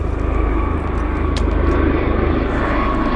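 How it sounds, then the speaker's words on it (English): A helicopter passes overhead above an old orchard with beehives, its rotor giving a loud, steady pulsing drone throughout, with no voices. "I'm gonna let this chopper pass."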